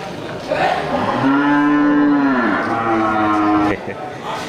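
A Bali cattle (banteng) moos at a busy livestock market, one long, loud, nearby low call followed by a second shorter one, over steady crowd murmur.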